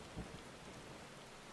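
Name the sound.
rain and thunder, from the video game Final Fantasy XIV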